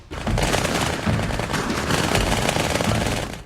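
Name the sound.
dual-wielded submachine guns firing in the Halo 2 video game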